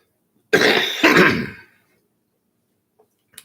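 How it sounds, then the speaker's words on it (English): Two harsh, close coughs in quick succession, then near silence with a couple of tiny clicks. "Excuse me for the cough."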